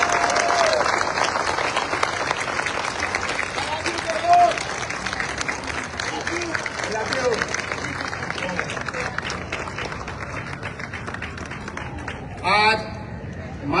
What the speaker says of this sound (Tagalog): pwede bang yung pinakamalakas nyong palakpak para sa kanila?